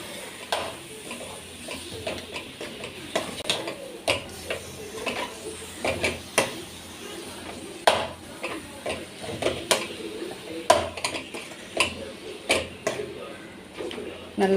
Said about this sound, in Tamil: நல்லா வதக்கலாங்க. சிக்கன் வதங்கட்டும்.